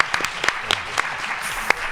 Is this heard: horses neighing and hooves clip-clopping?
no